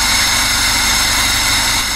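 A VAZ car engine idles during carburetor adjustment, producing a loud, constant close-up mechanical drone with steady hiss, holding even speed throughout with no talking.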